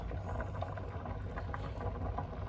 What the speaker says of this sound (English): If you hear anything in the back, there's a spuds bubbling.